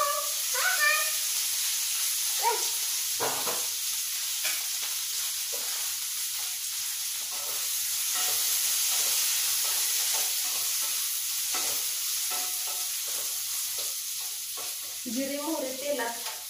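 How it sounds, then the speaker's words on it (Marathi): Chopped cabbage frying in hot oil with cumin and mustard seeds, a steady low sizzle and hiss running throughout with scattered stirring clatter, fairly close, under intermittent nearby voices and household noise. "जिरे मोहरे तेलात तळले कोबी खाली तेलात"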